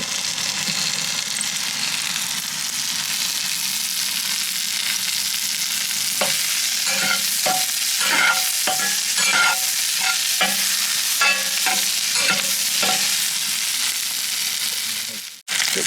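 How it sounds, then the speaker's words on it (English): Onions and mushrooms sizzle on a hot charcoal grill, a steady hiss throughout, joined midway by a run of quick scraping and tapping strokes from a spatula, close by and ending abruptly. "Now as the charcoal heats up, we'll be able to cook our onions."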